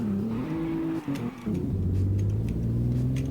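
An Alfa Romeo Giulia on drift tires with traction control off launches hard, its engine revving up through rising pitch, dropping briefly around a shift, then pulling loud and close again.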